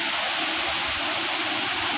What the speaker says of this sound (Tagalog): Yung lakas ng tubig, oh.